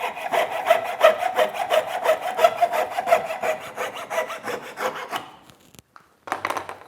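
A hand saw cuts through the wooden end of a Windsor chair bow in a steady back-and-forth rhythm of close, rasping strokes, stopping near the end before a brief handling noise.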